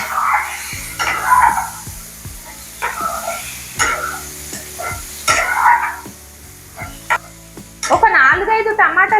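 Chopped tomatoes fry in a pan for aloo dosa, with bursts of sizzling as they are stirred and sharp spatula scrapes and clinks against the metal, close and intermittent.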